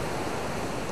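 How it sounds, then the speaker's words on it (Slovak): Sea surf roars against tall cliffs in a dense, steady wash of noise, loud and unbroken for a brief moment. "More, ktoré hučí, kričí ako netvor, až ma bolia uši."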